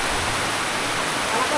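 Very heavy rain pounds down on a leaking roof, a dense, loud, unbroken hiss like rushing water, filling the short stretch with no pauses.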